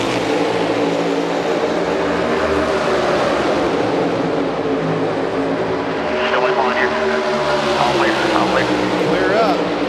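A pack of NASCAR Cup cars roars away at Charlotte Motor Speedway during the Coca-Cola 600, loud continuous engine thunder with passing swells, a commentator talking over it throughout.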